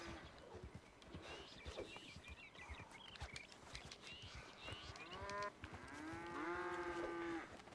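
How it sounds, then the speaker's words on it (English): A cow lows in the video game Red Dead Redemption 2, a drawn-out moo swelling near the end, mixed with horse hoof clip-clops and shuffling, other farm animals audible in a busy outdoor ranch scene. "Come here. Come here, cow."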